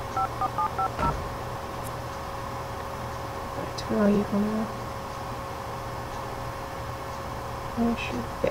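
A phone number is dialed in The Sims 2: a quick run of soft keypad beeps near the start over a steady hum, with quiet game chimes and blips later and no speech.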